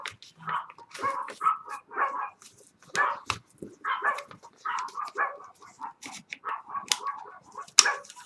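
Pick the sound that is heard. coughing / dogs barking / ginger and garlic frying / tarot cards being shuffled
dogs barking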